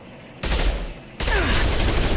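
Gunfire from the video game Mass Effect comes in two loud, sustained automatic bursts, the second starting after a short quieter gap and running on to the end.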